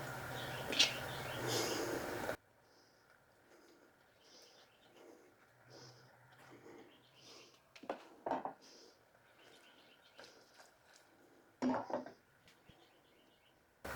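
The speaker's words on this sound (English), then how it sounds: "you can hear the birds today." Birds call softly outdoors in a quiet setting, with repeated faint chirps and coos spread across the clip after a brief louder noise at the start.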